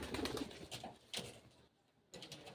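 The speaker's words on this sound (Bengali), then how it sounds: "খুব সুন্দর কবুতরগুলো।" Soft pigeon coos come in short bursts, close by, with quiet gaps between calls.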